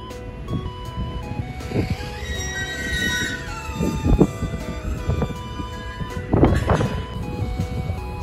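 A Japanese freight train hauled by a JNR-type EF64 electric locomotive rumbles and clanks nearby as it departs, with high metallic squeals from wheels and a steady mechanical hum as it gets moving.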